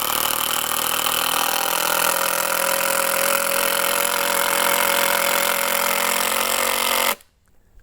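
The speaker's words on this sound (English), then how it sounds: "we're gonna go down to the Makita 12 volt here. Get it started." A Makita 12 volt power tool runs continuously at full power, loud and harsh with a buzzing mechanical drone, then cuts off abruptly near the end.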